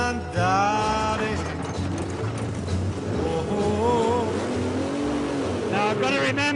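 An old car is driven at Silverstone, its engine droning close and loud and rising and falling in pitch as it moves, while someone talks and sings over it.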